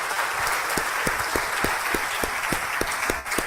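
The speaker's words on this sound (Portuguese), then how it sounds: "Você pode dar um aplauso ao Senhor Jesus" A church congregation claps for Jesus, a dense crowd wash over a steady rhythmic beat of slower, sharper claps, even throughout and fairly loud.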